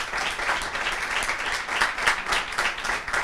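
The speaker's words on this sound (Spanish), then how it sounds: "Yo les pido un aplauso para Luis" An audience breaks into sustained applause for a man named Luis, a dense, even clatter of many hands that holds steady from start to finish.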